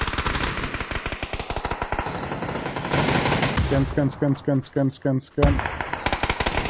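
PUBG arcade match in a temple: rapid automatic gunfire crackles near and far in dense bursts, with a distinct string of evenly spaced heavy shots midway, while someone talks over it.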